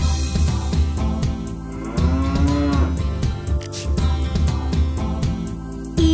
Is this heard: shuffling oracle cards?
no